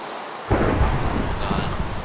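Thunder during a lightning storm in a Minecraft Hobbit adventure map, a sudden loud crack followed by a rolling rumble over steady rain, close and booming.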